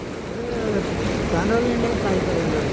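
Floodwater rushes past in a continuous broad roar, close and steady throughout, with a voice faintly audible beneath the flow.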